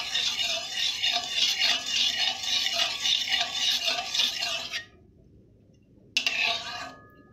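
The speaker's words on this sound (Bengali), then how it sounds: "এইভাবে নেড়ে নিয়ে রসটাকে তৈরি করে নেব" Orange juice being stirred in a pan (kadai) for orange jam: a steady, close wet scraping that runs continuously, breaks off into near-silence, then resumes briefly.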